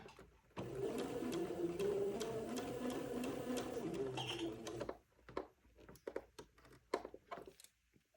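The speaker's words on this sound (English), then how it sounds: "I'm not sewing real fast, just because I want to maintain control over the seam." A sewing machine stitches a seam on an antique baptismal gown, running at a steady moderate pace for about four seconds with a whirring hum, then stopping, followed by faint clicks and handling noises.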